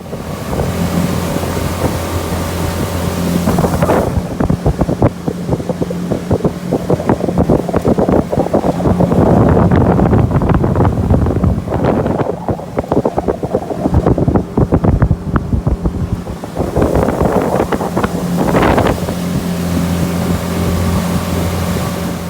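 A Tohatsu/Mercury 20HP outboard motor pushes a small boat across a lake, its engine drone steady and loud under heavy wind buffeting and water rush, rising briefly in surges.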